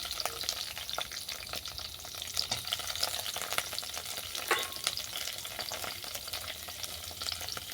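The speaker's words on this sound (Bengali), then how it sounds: "হালকা ফ্রাই করে নেব।" Bread pieces and vegetables lightly frying in oil for a salad, a soft, even sizzle with faint stirring clicks throughout, close but fairly quiet and uninterrupted by speech.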